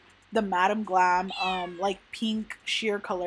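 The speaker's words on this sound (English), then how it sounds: "I'm so sorry about my cat in the background." A house cat meows several times in the background during a press-on nail tutorial, the short wavering cries mixed in with someone talking steadily close to the microphone.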